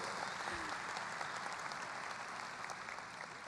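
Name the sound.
parents clapping at high school graduation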